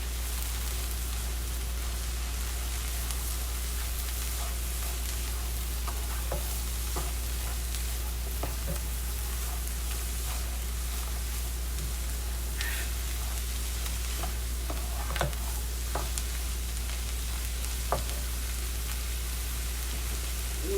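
Carrots and cabbage sizzle steadily in a frying pan for Southern fried cabbage, with a constant crackling hiss and scattered scraping stirs, over a low hum and without talk.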